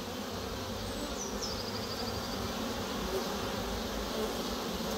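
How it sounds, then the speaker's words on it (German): Honeybees crowd and jam at the narrowed entrance holes of a Miniplus hive, making a dense continuous buzzing drone with occasional single bees whizzing past near the microphone. "Und da, wo die Fluglöcher so stark eingeengt sind, habe ich Stau, ne? Beziehungsweise die Bienen haben Stau."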